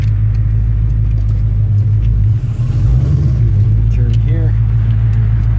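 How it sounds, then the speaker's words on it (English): A 2017 Dodge Challenger Scat Pack with a manual transmission rolls along in fourth gear, its steady deep engine rumble loud and close from inside the cabin, while a voice speaks briefly. "we'll do a little fourth gear roll in here and just see what it feels like"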